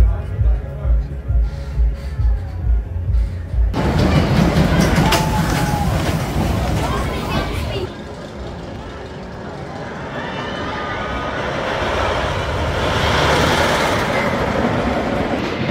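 Megafobia wooden roller coaster at Oakwood at night, ridden from row 7: a rhythmic clacking climb gives way to a loud, rumbling, roaring run over the track, with voices on board.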